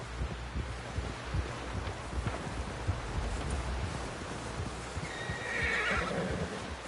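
A horse in the Red Dead Redemption video game whinnies loudly and clip-clops over rustling ambient wind, with a sharper neigh rising near the end and no speech.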